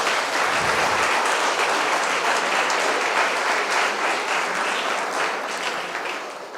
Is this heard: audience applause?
yes